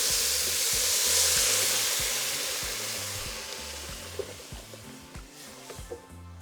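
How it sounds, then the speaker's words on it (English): Tomato broth poured into a hot pan of toasted fideo noodles for Mexican sopita de fideo, a loud rushing sizzle and hiss that bursts up at once and then eases into steady bubbling frying, with no talking. "So now here we're going to be adding our tomato broth."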